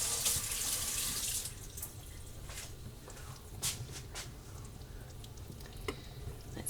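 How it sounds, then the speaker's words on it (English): Tap water runs in a steady, fairly close stream as a spoon is rinsed at the sink while cooking a beef stroganoff pantry meal, with faint clinks near the end. "Rinse this spoon."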